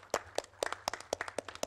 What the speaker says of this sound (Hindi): एक बार केके सर के लिए जोरदार तालियां.